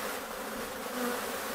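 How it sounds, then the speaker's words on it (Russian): Honeybees drone in a steady, dense buzz as they work between a garage and a trailer, close and continuous with no voices. "Так пчелки работают между гаражом и прицепом."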